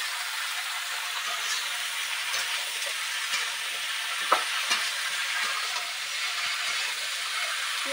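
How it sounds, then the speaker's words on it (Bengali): Salted food frying in a pan in a rural kitchen gives a continuous bright sizzle, close and even, with a few soft knocks and stirring taps scattered through it and no talking. "লবণ দিয়ে দিয়েছি, এবার একটু আমি ভেজে দেবো।"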